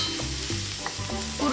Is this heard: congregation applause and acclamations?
no